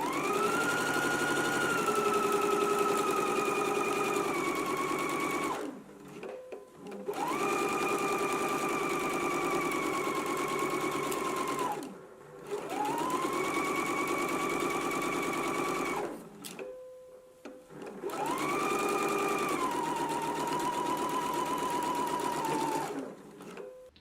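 A sewing machine runs a 5/8 inch seam on a garment's side front in four long bursts of steady motor whir, each winding up and slowing down, with short pauses between them and no one talking.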